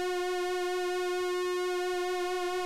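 A sustained tone from a Kitten II analogue monophonic synthesizer hums steadily, a sine wave LFO giving its pitch a subtle, slow wavering, played alone.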